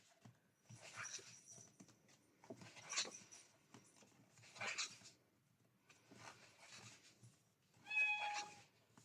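A pet cat meows indoors several times, in faint, spaced-out calls with quiet pauses between them and no talking.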